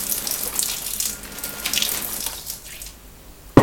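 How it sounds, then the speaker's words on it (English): Water is poured from a tap onto pottery clay, a steady running splash of moderate loudness with no talking, ending in a short sharp knock. "and you add water."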